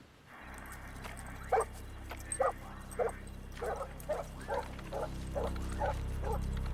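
Several short dog barks and yips in an irregular series, mixed with whimpering, heard over a steady low background hum.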